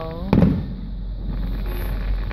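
A single firework bursting with one sharp boom at the AlKhobar Festival, heard from a distance over a low background rumble and crowd noise.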